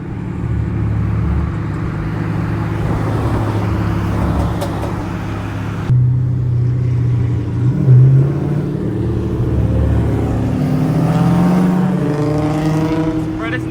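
A straight-piped, catless Dodge Scat Pack with an aftermarket intake rumbles loudly downtown, its deep exhaust drone swelling as it revs, while voices talk over it.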